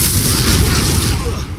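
Spell-casting blasts in the video game Hogwarts Legacy: a loud, continuous run of heavy booming bursts that rumbles without pause and fades slightly at the end.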